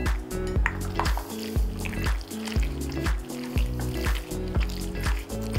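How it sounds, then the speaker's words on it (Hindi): Vinegar is poured into a chicken marinade with a steady close trickle and splashing liquid, with a faint rhythmic thumping underneath. "अब इसमें हम सबसे आखिर में डालेंगे सिरका"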